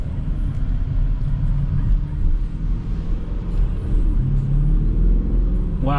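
A 2021 BMW X7 M50i SUV of roughly 460 horsepower drives along with a low, steady engine and road rumble, heard from inside the cabin with no talking.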